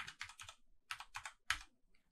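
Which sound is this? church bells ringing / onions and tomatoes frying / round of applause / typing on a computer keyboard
typing on a computer keyboard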